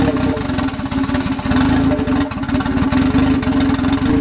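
A turbocharged Honda Civic engine idles steadily up close, a low, even rumble with a regular pulsing beat and no voices.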